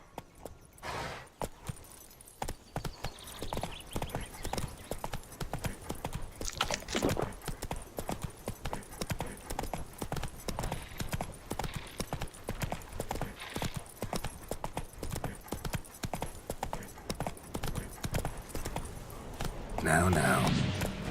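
Horse hooves clip-clop steadily at a walking or trotting pace in The Witcher 3 video game, a continuous near rhythm with a brief burst of louder activity near the end.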